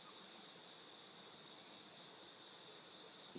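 Outdoor chorus of cicadas and crickets, a continuous high-pitched buzzing trill in several steady layers, faint and unbroken, with no voices.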